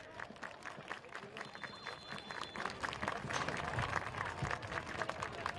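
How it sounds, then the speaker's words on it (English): Stadium crowd at a Loudoun United vs Hartford Athletic soccer match making steady, dense clapping and cheering noise that builds slightly, with an announcer's voice faintly present in the mix. "everybody clap your hands"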